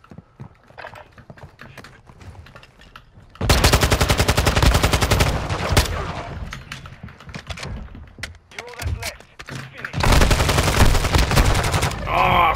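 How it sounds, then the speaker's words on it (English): Video game machine gun fire in two loud sustained bursts, the first running about six seconds and the second starting later, separated by quieter rattling game sounds. "This gunfire is so loud in my ear."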